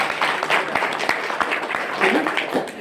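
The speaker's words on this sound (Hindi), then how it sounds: "ताली बजाइए एक जोरदार।" An audience at a business seminar breaks into applause, a dense burst of many hands clapping that fills the space for a few seconds, fairly close and loud, with a voice faintly underneath.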